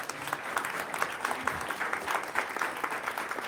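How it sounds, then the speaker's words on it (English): Audience applause at a Providence, Rhode Island mayoral forum, a steady dense clatter of many hands clapping throughout, moderately loud and continuous with no talk over it. "I'll let you guys clap for her"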